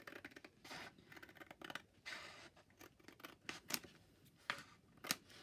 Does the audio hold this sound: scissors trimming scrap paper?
yes